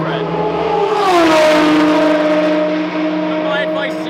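Ferrari F1 Clienti and 488 Challenge race cars at the Finali Mondiali, engines roaring loud and near with a rising then falling pitch as a car sweeps past, under steady crowd and track ambience.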